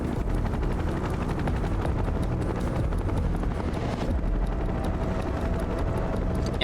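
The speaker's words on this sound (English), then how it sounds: "there's like a chopper above us" A helicopter hovers overhead in the video game Final Fantasy VII Rebirth, its rotor chop pulsing loud and steady throughout with a continuous engine roar.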